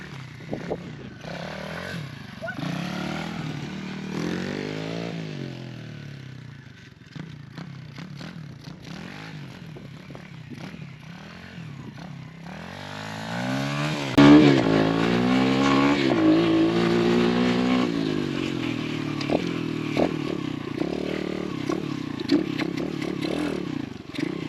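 A motorcycle engine running near the microphone, idling and then revving up in rising sweeps, with clattering mechanical noise as work is done on the bike.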